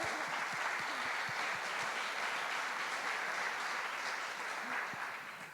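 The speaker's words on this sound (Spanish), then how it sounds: "Sí, un aplauso." Audience applause at a Spanish-language church talk: sustained, dense clapping from a crowd, steady and fairly loud for the whole stretch, with no voices over it.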